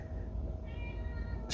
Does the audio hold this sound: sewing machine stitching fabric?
no